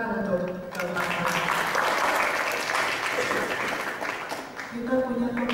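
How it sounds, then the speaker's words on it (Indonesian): An audience at a literary talk event applauding four speakers, a broad continuous burst of clapping with a voice talking over its start and end. "Kita tepuk tangan untuk keempat."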